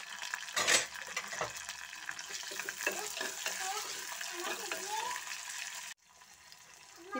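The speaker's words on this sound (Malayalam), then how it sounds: "ഇനി നമുക്കിതിലേക്ക് കുറച്ച് സബോളയും തക്കാളിക്കയും ചേർത്ത് കൊടുക്കാം." Sliced onions and tomatoes added to a hot pan while cooking a Kerala pulissery with colocasia stems, giving a steady sizzle with scraping stirs and a clatter of utensils, fairly quiet and continuous.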